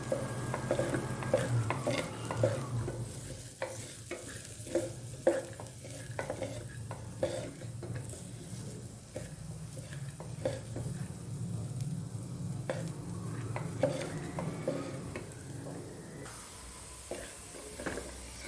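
Moong dal roasting in ghee over a medium flame for barnyard millet sweet pongal: a soft, continuous sizzle under repeated scraping and stirring of a spoon against the pan, quiet and steady throughout.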